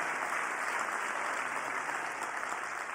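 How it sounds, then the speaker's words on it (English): At a university forum event, a large audience applauds the Admiral and the Ambassador with a continuous, fairly soft wash of clapping heard from a distance. "Let's have one final round of applause for the Admiral and the Ambassador,"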